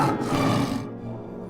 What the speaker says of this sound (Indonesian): itu seperti suara ngaungan harimau